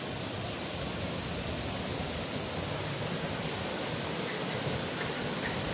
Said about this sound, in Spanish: Acá tenemos otra vez el sonido del agua.